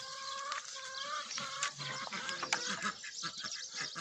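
A lively chorus of quacking ducks and honking geese, continuous and fairly close, with overlapping calls and no speech.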